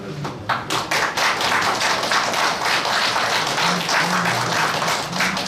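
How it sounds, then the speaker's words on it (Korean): An audience at a commemorative book-launch event applauds in a loud, dense burst of many hands clapping that holds steady throughout, close and continuous. "힘찬 박수로 격려해 주시면 감사하겠습니다"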